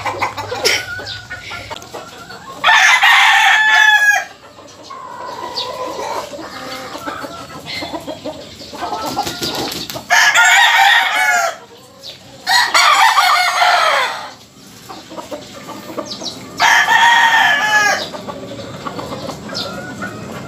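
Young stags around five months old crowing and clucking in a coop, with several loud crows spaced through the clip over steady background clucking.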